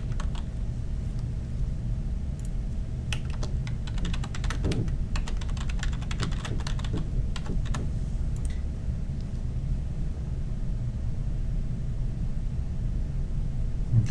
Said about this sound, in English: And then I can type in my text.